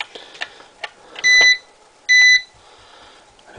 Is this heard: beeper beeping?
yes